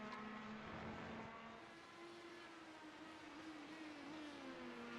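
IndyCar race car engine in a sim racing game at Mid-Ohio, a sustained engine drone with pitch sliding up and down as the car exits a corner, steady and fairly quiet, no talk.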